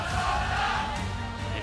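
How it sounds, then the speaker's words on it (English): Crowd noise from a UK esports audience at a League of Legends grand final between Fnatic Rising and Excel UK, a steady roar of voices and shouts filling the hall throughout. "I love hearing the UK crowd come out in force."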